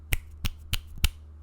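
Four crisp finger snaps, evenly spaced about a third of a second apart, close and dry with no talking in between; the snapper wears a fingerless glove.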